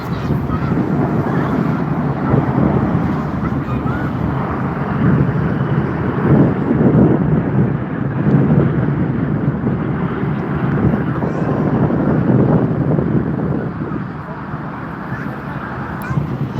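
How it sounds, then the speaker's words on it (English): A DHL Boeing 777 landing at Frankfurt Airport, a steady broad roar of jet engines and rushing air that holds loud and constant throughout, heard from nearby with wind buffeting the microphone. "Landed, Boeing 777, DHL."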